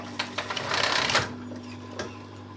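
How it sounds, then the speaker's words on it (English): A sewing machine top stitching the seam of a trouser waistband, a short run of close rapid mechanical stitching followed by a few isolated clicks. "Just hold it together and give it a top stitch here."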